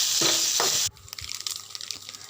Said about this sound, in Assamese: এতিয়া ভালদৰে আলুখিনি, পিঁয়াজটোৱে আৰু হালধিখিনি ফ্ৰাই কৰি ল'ব লাগিব